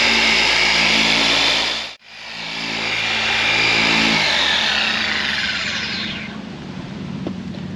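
A dual action polisher working scuffed paint on a 2024 Mini John Cooper Works, a loud steady motor whine that briefly stops, spins back up and runs on, then its pitch and strength gradually drop near the end.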